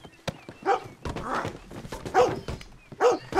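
A dog barks repeatedly in the Red Dead Redemption 2 video game, several sharp woofs in irregular succession, close and fairly loud among other game noise.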